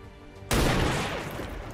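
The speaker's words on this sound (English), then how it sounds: "We need to start putting some shots down on this advent turret." Video game gunfire in XCOM 2 aimed at an ADVENT turret: an abrupt, loud burst of shots that cuts in sharply and rolls into a dense, booming volley before gradually easing.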